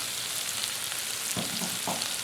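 Meatballs fry in a pan with a steady bright sizzle, broken by a few soft knocks and scrapes as they are pushed to the pan's edges.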